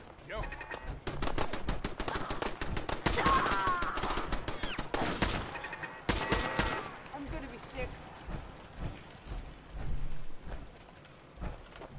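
Rapid gunfire in the Fallout 4 video game: dense bursts of automatic and single shots crackle loudly for several seconds, then thin out into scattered shots and game noise.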